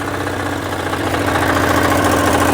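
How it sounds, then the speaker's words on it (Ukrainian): Weima single-cylinder diesel walk-behind tractor engine running steadily after its decompressor is released, a loud, close, even idle chug with a constant low rumble and vibration throughout, no talking. "Вижимаю декомпресор і як працює дизельочок Вейма"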